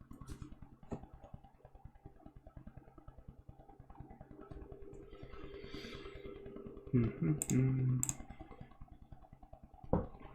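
Rapid keyboard typing clatters in quick, uneven clicks throughout, close and fairly quiet, with a few louder key strikes near the end.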